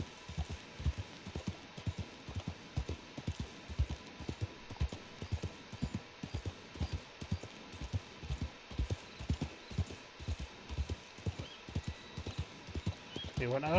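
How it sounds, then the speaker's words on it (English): Rhythmic horse hooves clip-clopping steadily at a walking pace throughout in Red Dead Redemption 2 Online, moderately close, with a faint background hum. "that would be a player's horse"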